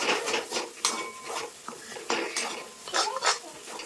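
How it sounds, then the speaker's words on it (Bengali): A spoon scrapes and clinks against a pan while stirring the spiced potol dorma stuffing with roasted cumin powder, in a few quick irregular strokes close by, with a faint sizzle beneath. "দিয়ে আর একটু নেড়ে নেবো।"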